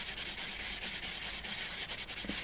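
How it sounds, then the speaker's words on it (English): Fresh wasabi root is grated in quick, rhythmic rasping strokes, a close, soft scratching with no talk. "So, and then you grate a bit more."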